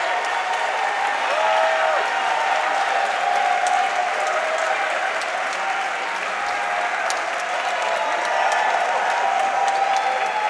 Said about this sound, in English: Standing ovation indeed from the crowd as they welcome Adphenom.